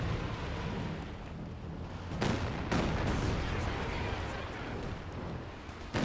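A dense artillery barrage rumbles in a strategy video game, with booming impacts layered into continuous loud battle noise.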